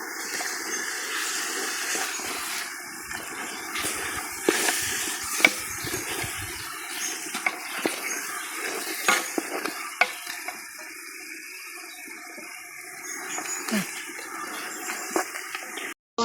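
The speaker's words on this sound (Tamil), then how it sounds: "இப்போ ரெடி சிக்கனை போட போகிறேன் மிக்ஸ் பண்ணு" Chicken pieces stirred in a pan while cooking outdoors in a garden: continuous hissing, bubbling sizzle with scattered scraping and clatter from the stirring, steady and close, no talk.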